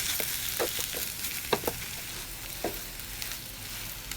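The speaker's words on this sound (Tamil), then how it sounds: "சேர்த்துட்டு இதே நாங்கள் நல்லா மிக்ஸ் பண்ணி விட்டுருவோம்" Tuna and mashed potato filling for pinches being mixed in a hot pan, a low sizzle under several scraping spoon strokes and light knocks, close and without speech.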